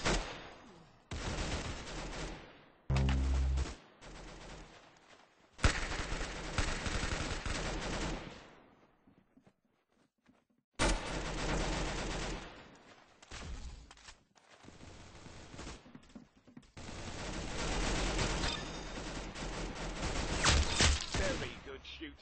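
Video game Arsenal gunfire comes in dense bursts of rapid automatic shots, loud and close, broken by short pauses and a quiet stretch midway, with some talk mixed in.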